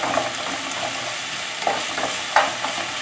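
Orange chicken sautéing in a hot pan gives a steady close sizzle, broken by a few sharp scrapes and clanks of a utensil stirring the pieces; no voices are present.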